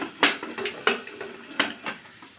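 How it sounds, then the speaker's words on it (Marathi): A lid goes onto a pot of softening tomatoes for veg pulao on low gas, with several sharp metallic clanks and rattles spaced about half a second apart, close and clear with no talk. "आता मी याच्यावर झाकण ठेवते गॅस कमी ठेवायचं आणि याच्यावर झाकण ठेवते"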